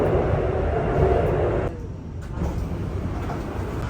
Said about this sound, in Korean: 여기 지하철 MRT